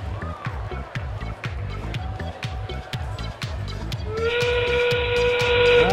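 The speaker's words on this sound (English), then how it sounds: "That whistle means 20 more seconds to go." A steam-train-style whistle sounding a long, loud tone at a FIRST Robotics Competition qualifying match to signal twenty seconds left, rising over rhythmic chugging arena noise and an announcer's voice.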